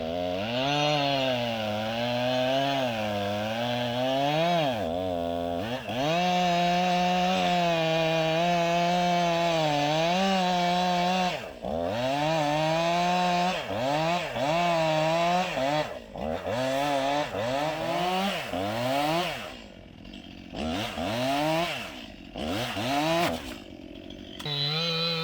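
A chainsaw cuts through a log, its engine buzz loud and close, revving up and down repeatedly with brief drops as the bar works the wood.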